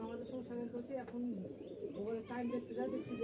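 Pakistani high-flying Teddy pigeons cooing, several soft throaty coos repeating in quick succession close by, with faint chirps and a busy background.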